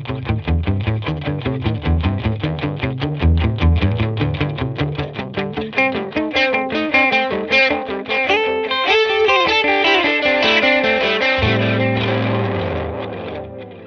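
Guitar played through a Meris LVX delay pedal with a flanger and drive distortion, a picked rhythmic pattern then sustained chords, loud and close with a sweeping, saturated tone and no voices.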